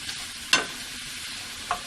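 Shrimp for cilantro lime shrimp cook in a big pan, giving a soft, steady sizzle with two brief louder scrapes as they are stirred.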